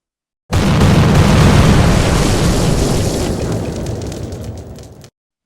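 Heavy artillery shelling erupts in one sudden, loud, sustained blast of rumbling explosions that rolls on for several seconds, then fades and cuts off.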